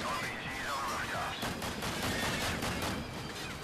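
Rapid gunfire in Call of Duty 4: Modern Warfare, a dense rattle of distant shots over continuous battle noise, with faint game voices in the mix.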